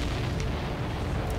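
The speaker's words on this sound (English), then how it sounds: "See that explosion? Looks like that's one of them down." In the Ace Combat 7 video game, an explosion roars as a dense, loud rumbling blast. It sustains a thick low boom throughout, with no talk over it.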